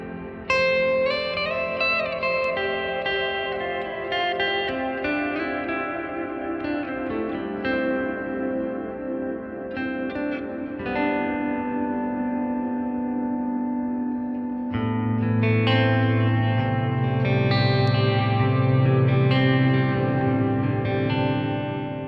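Electric guitar played through a Headrush unit's reverb pushed to a long decay, sustained chords and melodic notes smearing into a dense, washy tail, with a fuller low-register passage swelling in past the midpoint; no talking.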